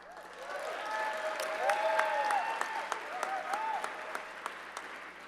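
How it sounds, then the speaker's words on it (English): Audience at an awards ceremony clapping for honorees, a sustained round of applause with a few sharp individual claps standing out and some crowd voices mixed underneath, moderately distant in a large room. "I just want to give them a huge round of applause."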